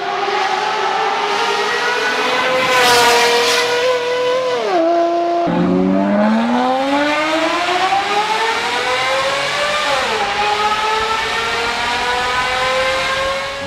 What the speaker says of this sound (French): Le client, il nous a demandé le son du V12, mais pas trop aigu.